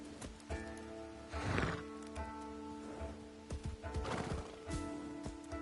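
A horse whinnies in Assassin's Creed Shadows, with clip-clopping hooves and faint bird chirps in the game world. Two distinct neighs rise over soft ambient sound at a moderate level.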